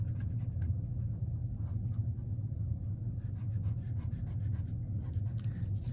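An eraser rubs back and forth over pencil lines on paper, clearing extra vanishing lines from a one-point perspective cube drawing; soft, close, repeated scrubbing strokes over a low steady hum.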